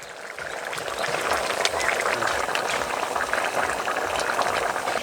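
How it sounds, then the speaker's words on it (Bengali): Fish curry with green tomato bubbling in a pan, a dense, steady hiss and fizz of rolling boil, close and continuous without talk. "এবার আরো 2 মিনিট ফুটিয়ে নেব।"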